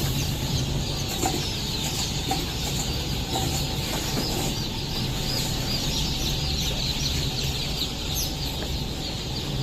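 Many hybrid chickens cluck and chatter continuously on a busy poultry farm with hatchery machines, a dense, loud, steady crowd noise of birds with occasional wing flaps.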